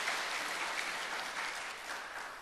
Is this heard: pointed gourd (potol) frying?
no